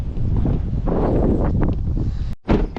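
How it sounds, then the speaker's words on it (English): Gusty wind buffets the microphone in a loud, continuous roar, briefly dropping out before another blast. "I know it's windy."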